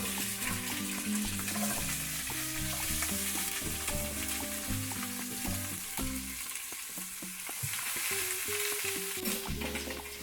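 Onion and habanero peppers frying in a pan, a continuous close sizzle with crackling bursts, accompanied by music throughout.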